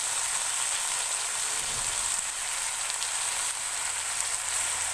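Chopped tomatoes sizzle and fry in a pan for matar pulao, making a steady, soft crackling hiss with faint stirring underneath.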